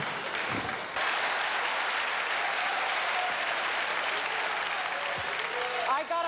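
A theater audience gives a juggler sustained applause, a dense wash of clapping that swells after a brief pause and carries on steadily, with a voice heard faintly under it.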